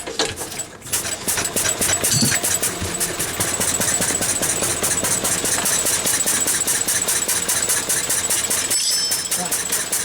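A Lister D stationary engine drives a universal grinder, thumping loudly in a fast, even rhythm with one short dip near the start and another near the end.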